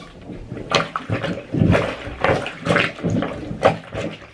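Repeated sloshing and splashing of cloth diapers being pushed down into water with a plunger, in uneven bursts roughly every half second, close and fairly loud.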